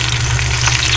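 Calamares squid rings frying in hot oil, a loud dense close sizzle that hisses steadily through the short moment without pause or voices.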